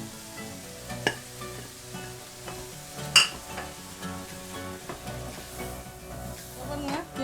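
Chicken pieces sizzle and fry in a pan for a sandwich, a soft continuous crackle with occasional stirring and utensil clinks against the pan, fairly quiet and without talk.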